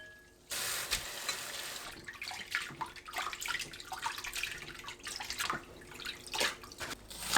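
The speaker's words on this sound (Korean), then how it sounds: "깨끗한 물이 나올 때까지 여러 번 헹궈줍니다." Cooked freshwater snails are rinsed in water with a spoonful of flour, rubbed by hand in a bowl at close range, giving steady splashing, sloshing and dripping without pause and no voices.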